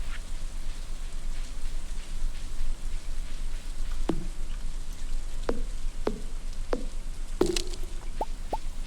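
Steady rain falls in the Stardew Valley video game, a constant hiss with scattered louder drip and splash sounds in the second half, alone with no talk.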